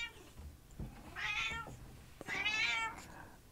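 A small pet cat gives two drawn-out meows in a quiet indoor room, each one clear and close, with soft thumps before and between them.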